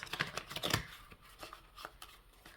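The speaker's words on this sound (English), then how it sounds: "That's one bad shuffle." Playing cards being shuffled for a tarot reading, a few quick riffling bursts with short pauses between them, close and fairly quiet.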